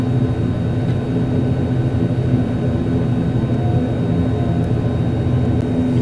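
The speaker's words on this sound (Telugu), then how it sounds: "సారీ మన ఫ్లైట్ టేకాఫ్ అవుతుంది చూడండి." A steady, loud low drone of an IndiGo airliner's jet engines during takeoff, heard continuously as one unbroken rumble.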